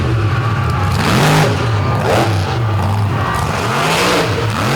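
A pulling truck's engine revs hard under power at a night truck pull in Benson, NC, a loud, close, continuous roar that swells and dips with repeated throttle surges.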